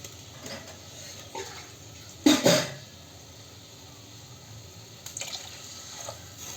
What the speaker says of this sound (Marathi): पाणी टाकून घेईल आपल्याला जेवढं लागेल तेवढं